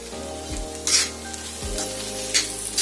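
Potato bhaji with fresh coriander is stir-fried in a pan, a steady sizzle broken by a few scraping stirs of the spatula, close by and moderately loud, with a low hum underneath.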